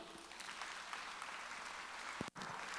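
Church congregation applauding during a Sunday worship service, a steady broadband wash of clapping at moderate level with a brief dip near the end.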